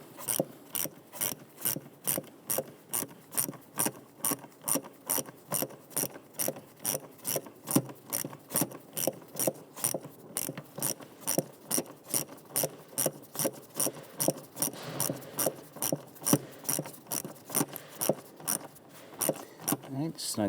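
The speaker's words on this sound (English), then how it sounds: "Using a flathead screwdriver, we can go ahead and tighten down the clamps here." Steady, evenly spaced ticking clicks repeat throughout, a flathead screwdriver tightening hose clamps on the engine of a 2011-2021 Jeep Grand Cherokee 3.6L V6, close and moderately loud.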